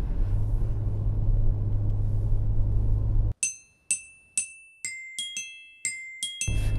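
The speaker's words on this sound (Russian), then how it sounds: "А погрузчик, экскаватор вон фигачит по полю." Excavator working across a waterlogged rapeseed field: a steady low engine rumble with a droning hum for about three seconds, then an abrupt cut to near silence broken by a string of bright, ringing chime tones.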